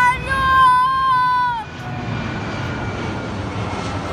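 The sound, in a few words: airplane flying overhead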